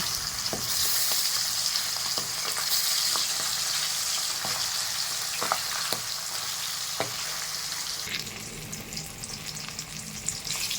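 Pangas fish frying in a pan, a steady dense sizzle with scattered pops and light scraping of a utensil, continuous and close, no voices.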